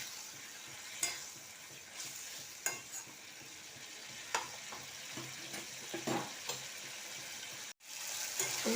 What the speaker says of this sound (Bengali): আবার এটাকে ভালো করে কষে নেব।